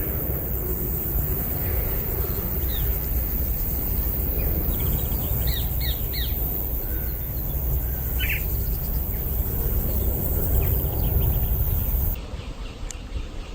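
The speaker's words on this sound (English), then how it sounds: "You can hear the grasshoppers and the birds." Steady outdoor summer ambience with a constant grasshopper buzz or trill and scattered short bird chirps, some faint and distant, others closer.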